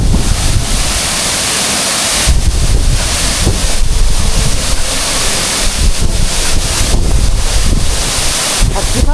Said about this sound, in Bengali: এত হাওয়া আসছে পুরো ঝোড়ো হাওয়া